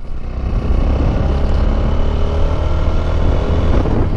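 Motorcycle engine running steady and loud close by, a continuous low droning roar as the bike pulls through a gear change, with no pause or break in the sound.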